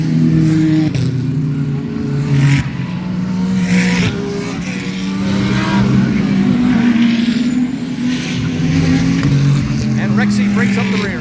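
GTD-class race cars at the IMSA Petit Le Mans rumble past near turns 10a and 10b, loud engines rising and falling as they accelerate and shift, with a voice talking over the noise.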